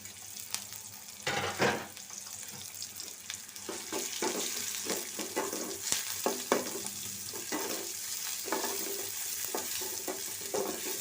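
Green chilies, onion and garlic frying in hot oil in a pan, a continuous sizzle broken by repeated scraping and stirring knocks of a utensil, fairly close, with no voices.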